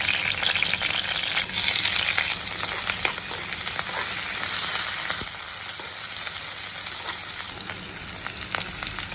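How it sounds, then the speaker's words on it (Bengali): Loud, steady sizzling of vegetables frying in a pan for a Chinese-style dish, with occasional crackles and scraping stirs, and no talking. "হালকাভাবে ভেজে নিতে হবে সবগুলো সবজি"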